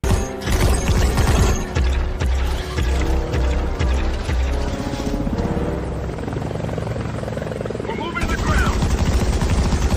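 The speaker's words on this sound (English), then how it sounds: "It takes the last frame and continues it into a full helicopter transformation." AI-generated soundtrack for a machine transforming into a full helicopter: a loud, continuous rotor-like roar with dense mechanical clatter and bursts resembling gunfire, steady throughout with a brief dip and swell near the end.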